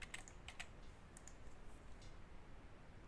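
A word typed on a computer keyboard: a quick cluster of faint key clicks near the start and a few more a moment later, over a quiet room hiss.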